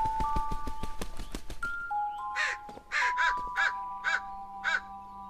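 A crow caws six times in a steady series, close and clear, following a run of ringing chime-like tones, in a scene from a historical fantasy drama.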